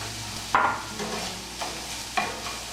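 Pre-cooked leftover meat goes into a pan of sautéed onions, giving a few distinct scraping knocks from stirring over a faint, low sizzle.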